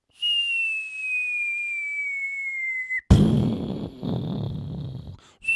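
A whistle sound effect: a long, clear, slowly falling tone, like a bomb dropping, that ends in an abrupt rumbling crash and noisy debris before a short tone returns at the end.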